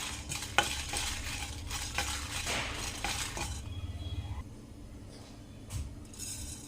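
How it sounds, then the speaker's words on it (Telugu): Dried red chillies and coriander seeds are dry roasted in a pan, giving a scraping stir and light rattle with a faint sizzle, then a quieter stretch with an occasional clink. "డ్రై రోస్ట్ చేసుకోవాలి. 5-6 ఎండుమిర్చి,"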